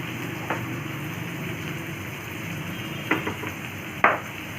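Semolina dry-frying in a pan gives a steady soft sizzling hiss throughout, with a few sharp scraping stirs of a spoon against the pan near the end.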